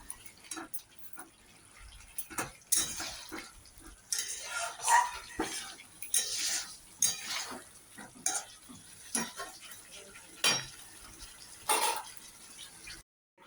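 Duck eggs and fried potato being stirred into a curry in a pan, with irregular scraping and clattering of a utensil against the metal over a low simmer, close and intermittent.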